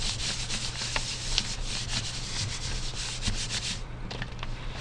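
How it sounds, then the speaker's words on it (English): A hand rubs firmly over glued paper artwork, a dense, continuous scratchy swishing in quick back-and-forth strokes, close and steady with no talking. "A good trick is to also flip it over and rub."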